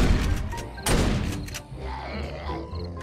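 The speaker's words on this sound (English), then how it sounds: "I hear a shotgun going up a lot." Gunfire in the zombie-survival video game 7 Days To Die, with shotgun blasts going off repeatedly at mid distance, including a loud burst near the start and one around the one-second mark, over a busy game soundscape.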